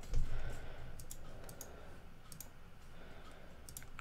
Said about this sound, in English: select your text and type whatever you like